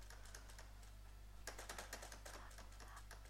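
Rapid clicking of computer keyboard keys during a game, repeated presses in quick bursts, growing busier and louder in the second half, very faint against a low steady hum.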